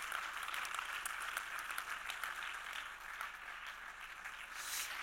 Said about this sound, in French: Et sous vos applaudissements.